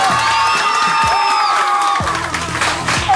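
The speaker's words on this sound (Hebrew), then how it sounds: "מחיאות כפיים לרוני!" A live studio audience at a children's television show bursts into loud cheering, clapping and whoops, a dense close crowd roar with children's shouts that swells and dips slightly across a few seconds.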